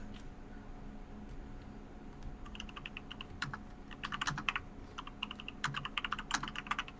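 Fingers tap rapidly on a computer keyboard, starting sparse and becoming a dense, uneven clatter of clicks over a low background hum.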